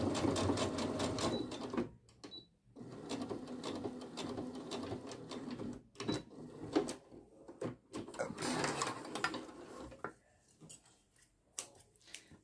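Sewing machine running in long steady bursts as it topstitches a fabric wallet, with short pauses and a few soft clicks between runs.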